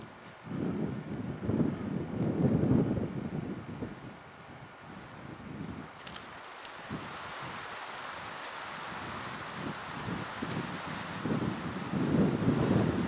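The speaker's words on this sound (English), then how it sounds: "You can hear the wind." Wind blowing in the Hoover Wilderness near Snow Lake at a high-elevation campsite, a continuous rushing roar with gusts and heavy buffeting on the microphone throughout.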